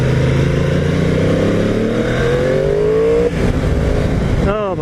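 A 2015 Yamaha R1M sport motorcycle with its stock exhaust, ridden on the road, its engine pulling through steady rising gear runs with a brief shift dip, loud and close throughout.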